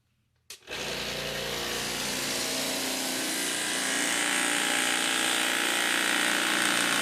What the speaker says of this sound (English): Now what's happening here is it's on these springs, and the motor, it's a vibrator motor.